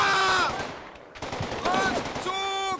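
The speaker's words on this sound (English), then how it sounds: "The Americans have spotted the northern infantry and plastered them with fire." Bursts of gunfire from the tabletop-style war game Combat Mission: Final Blitzkrieg, American troops firing on German infantry, sharp cracks scattered among tonal whistles and game sound effects over about three seconds.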